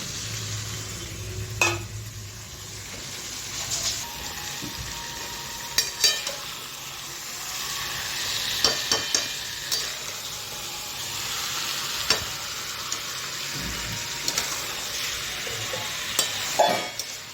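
Chicken kosha cooking in oil with its marinade water, stirred in a pan: a steady close sizzle and frying hiss runs throughout, broken by irregular scrapes and clinks of the spoon against the pan, with no talking.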